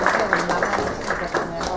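Audience applause at a fashion show stage event as a performer is announced: dense, steady clapping from a crowd, moderately loud and continuous throughout, with a few sharper bursts of claps standing out from the wash.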